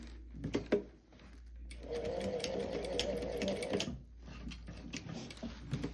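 A sewing machine tacking stitches on a leather sleeve runs in one steady mechanical burst of about two seconds, framed by a few soft clicks and handling taps, close and fairly quiet.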